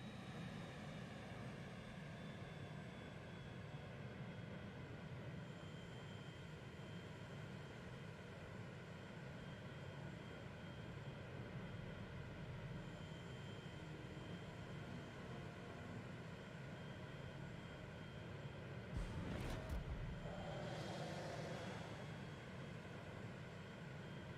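A fighter aircraft flies in the naval combat game World of Warships as a faint, steady propeller drone. The drone holds through the whole clip, with a short sharper burst near the end.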